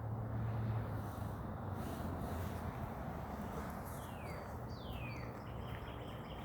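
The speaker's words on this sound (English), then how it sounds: "And the birds singing in here." Faint, distant birdsong drifts through an arboretum woodland garden in early spring, with a couple of brief sweeping whistles and scattered chirps over a constant broad outdoor rumble.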